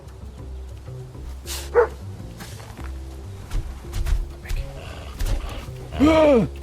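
A dog in a video game barks in a few loud, close bursts between quieter game sounds, with a howl-like call near the end and no talk.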